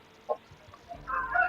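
A fighting rooster kept for breeding gives a short cluck, then a longer, louder throaty clucking call close by, brief and raspy over faint background noise.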